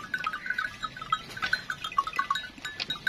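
Sheep bleat repeatedly on a farm in Pakistan, several short overlapping cries from nearby animals in quick succession, with no talking.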